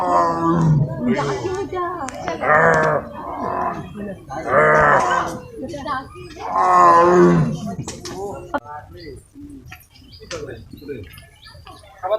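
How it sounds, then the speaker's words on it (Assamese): A tiger at Guwahati zoo roars in several loud, close, drawn-out bursts separated by short pauses, then quieter rumbling toward the end. "মই আপোনালোকক মাতটো শুনাই আছোঁ দেখিছেনে বাঘটো"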